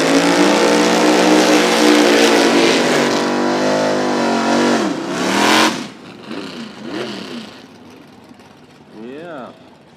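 Gasser drag race cars at a Toronto drag strip roar loudly as they accelerate away, a sustained engine howl that sweeps up in pitch and fades into the distance, followed by fainter shifting revs.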